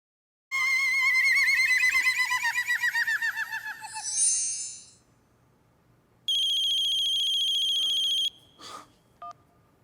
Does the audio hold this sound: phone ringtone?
yes